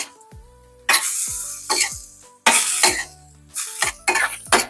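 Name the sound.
stirring tofu cubes in a pan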